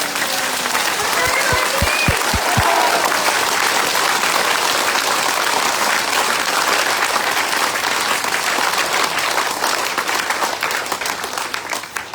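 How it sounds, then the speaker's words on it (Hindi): A large crowd applauds loudly and steadily for several seconds, the clapping filling the space before tapering off at the end. "दोनों हाथ ऊपर करके शेरों वाली तालियां बजा के दिखा दो एक बार।"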